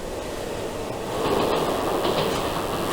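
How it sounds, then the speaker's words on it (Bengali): A train passes at night, a steady low rumble of rolling wagons that swells and grows louder partway through, heard from a distance without speech. "ট্রেনের শব্দ না?"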